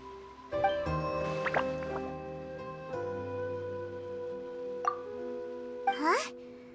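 Water droplets fall and plop in Genshin Impact, a few clear bright drips standing apart over soft melodic game music.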